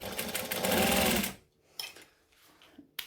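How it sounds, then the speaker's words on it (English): Sewing machine chain stitching pieces of fabric placed right sides together, a loud steady running whir for over a second, then stopping, followed by quiet handling sounds and faint clicks. "I'm going to chain stitch all of them and then top stitch all of them."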